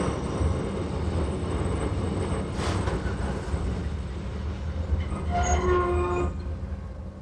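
A Swiss train on the Davos line rumbles steadily along the mountain track with a low continuous roar, and a brief tonal squeal or horn-like note rises near the end.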